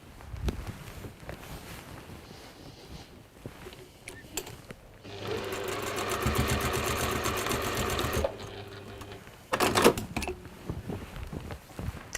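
A sewing machine runs a short holding stitch on a fabric hood, a steady rapid whirring chatter of about three seconds that stands out clearly from the quiet room noise around it.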